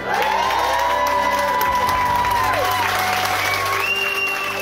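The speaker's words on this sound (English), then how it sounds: "Can I just get a massive round of applause for my beautiful wife?" Wedding guests in a garden setting break into a loud, sustained round of applause for the bride, with cheering and whoops mixed in, continuing throughout over music.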